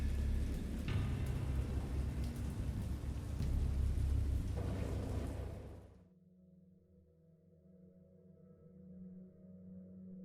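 Rain pours down in a wild thunderstorm, broad and loud with low rumbling thunder, then cuts abruptly to a quiet low hum for the remaining seconds.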